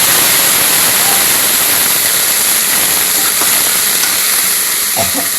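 Loud, constant sizzling hiss as a little water hits onions and chili frying in a hot pan, steam crackling steadily throughout.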